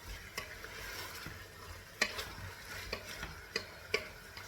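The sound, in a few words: stirring spices for chicken sauce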